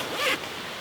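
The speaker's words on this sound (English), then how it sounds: "And it is also a double zipper here." Double zipper on the D-shaped door of a Big Agnes Fly Creek HV ultralight one-person tent being pulled open, a single brief close rasping zip lasting a fraction of a second.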